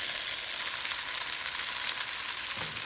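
Oxtails searing in olive oil and a little butter in a Dutch oven, a steady close hiss of sizzling fat that stays even throughout with no voices.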